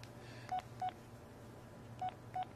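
Electronic keypad tones sound while someone types on a phone: four short, identical beeps in two pairs separated by a pause, close and clear over a faint low hum.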